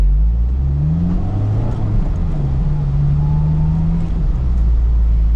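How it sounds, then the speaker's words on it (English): A manual car idles with the air conditioning running, a steady low engine drone with a faint whir, the revs sinking gradually and holding a constant loud hum throughout. "I put the AC on for a second just to show you the revs dropping down faster"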